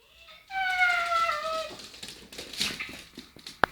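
A dog whimpers in a thin, falling whine that tapers off, followed by scuffling and faint rustling nearby, with a short sharp knock at the end and no talking.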